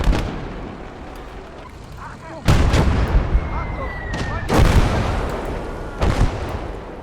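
Heavy mortar fire in the video game Legion of the Damned: several loud, booming blasts with long rumbling tails, spaced a couple of seconds apart over a constant low battle rumble.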